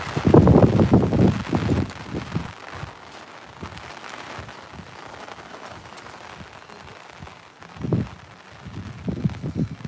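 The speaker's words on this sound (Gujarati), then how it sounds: "છત્રી ઉડી જાય એવી સારી હવા" Gusty wind buffets the microphone in loud rumbling bursts, strongest at the start and again near the end, with quieter blustery stretches between, during very heavy rain over flooded farm fields in Gujarat.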